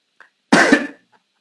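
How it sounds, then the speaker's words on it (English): One harsh, loud cough from a man, preceded and followed by brief faint sounds, with silence around it. "Don't Yeah, cough no more."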